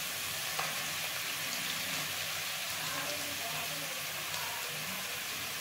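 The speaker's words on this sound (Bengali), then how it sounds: "ভাজা হয়ে গেলে আদা বাটা আর 5 ফোড়ন আর 4টে কাঁচা লঙ্কা কুচি হালকা ভেজে নিয়ে" Ginger paste, five-spice and chopped green chillies frying lightly in oil, giving a steady close hiss and crackle with faint stirring and no voices.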